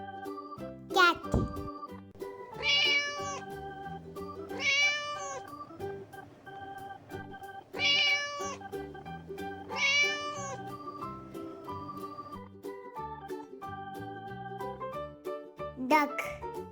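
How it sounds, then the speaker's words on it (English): A cat meows a few times over a bouncy, tinkling children's song with steady music throughout. "cat,"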